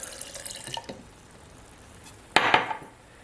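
Half a cup of water being poured in a home kitchen while a vegan fajita pie is made. A short splash of liquid is followed by a brief pause and a second, louder pouring gush with clinks.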